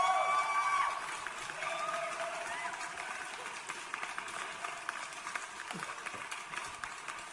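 Applause sound effect played back, a steady wash of many clapping hands with crowd noise, loudest at the start and then settling to a slightly lower level, running continuously without talk over it.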